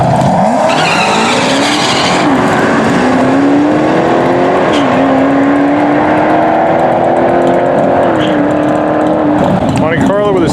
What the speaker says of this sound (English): Even the purple Hellcat Charger is going up against this Monte Carlo.